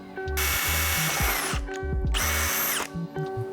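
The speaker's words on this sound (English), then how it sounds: "I'm gonna go ahead and drill the second hole" A power drill bores the second hole in a Vicrez LV4 front splitter, two loud close whirring bursts separated by a short pause, with faint rattling between and after them.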